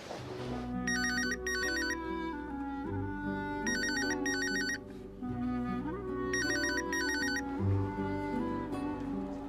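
An electronic phone ringtone plays in repeated bursts, a melodic ring pattern recurring about three times over steady background music, with no talking.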